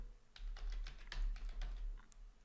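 Typing a command on a computer keyboard, a quick run of light, close key clicks in an uneven rhythm, ending with a final tap; no voices.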